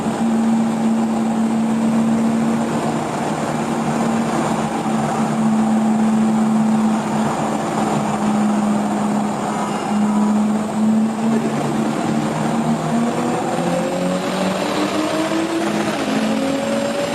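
A Toyota Supra fitted with a 67mm turbo and 850cc injectors accelerates hard on low boost, its engine note droning steadily and then climbing in pitch through the gears in a loud, continuous pull with wind noise.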